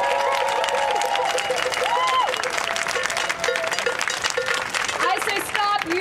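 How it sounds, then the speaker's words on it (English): A crowd at an outdoor rally against mining on Anishinaabe territory applauds and cheers for Chief Turtle, dense sustained clapping with shouts and whoops mixed in, loud and continuous. "Another round of applause for Chief Turtle."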